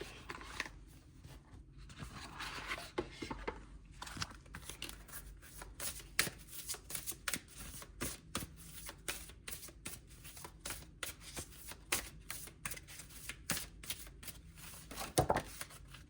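An oracle card deck is shuffled by hand in a steady stream of rapid riffling flicks and soft card slaps. The sound is close and fairly quiet, lasts throughout, and has no talking over it.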